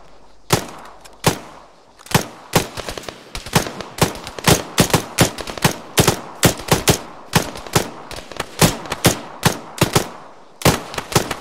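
Rifle gunfire during MOUT training, a long run of sharp, loud close-range shots fired in irregular bursts and singles with brief gaps between volleys.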